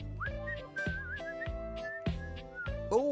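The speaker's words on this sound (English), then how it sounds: "He's whistling when you walk up on him" A game character whistles a wavering, lilting tune in Date Everything, with plucked background music beating steadily beneath; clear and close, no speech.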